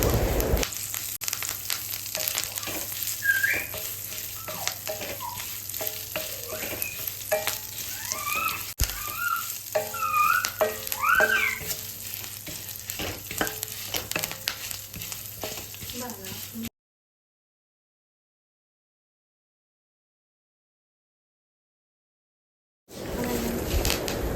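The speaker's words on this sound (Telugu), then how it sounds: "అలాగే కరివేపాకు కూడా యాడ్ చేసి చక్కగా దూరగా ఫ్రై చేసుకోండి" Curry leaves frying in oil over a low flame for coriander chutney, a steady close crackling sizzle with stirring scrapes, cut by a silent gap before the sizzle returns briefly.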